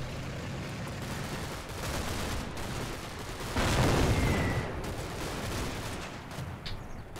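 Gunfire in Combat Mission: Battle for Normandy rumbles at a distance, with a heavier shot swelling in the middle over a steady battlefield background of low rumble.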